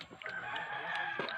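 A person imitates a rooster crowing, a single strained cock-a-doodle-doo with rising and falling pitch, close and fairly loud, with no other talking.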